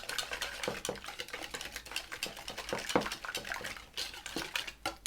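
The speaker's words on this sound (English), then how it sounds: "Right, give that a whisk." Rum, sugar and salt are whisked together in a bowl, the whisk clinking rapidly and steadily against the sides in a continuous scraping, tapping rhythm with no talking.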